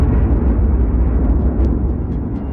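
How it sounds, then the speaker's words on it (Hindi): A huge explosion effect: a loud, sustained low rumbling roar that stays dense and steady from start to finish, with no talk over it. "बीच के इस भयंकर दबाव के कारण एक विशाल विस्फोट हुआ"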